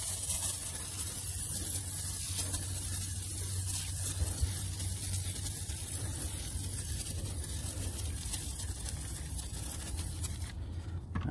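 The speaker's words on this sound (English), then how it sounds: "here we go again with the foam sprayer" A foam sprayer hisses steadily as it coats a car's back tire with Superior Products Rage wheel cleaner, a continuous close spray that runs for about ten seconds before cutting off.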